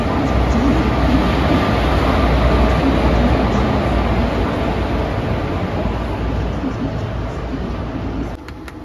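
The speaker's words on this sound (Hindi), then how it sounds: "ये जी आ गया नागपुर का रेलवे स्टेशन।" A train at Nagpur railway station gives a steady, loud rumble of rolling stock and station noise throughout, easing slightly near the end, with no speech.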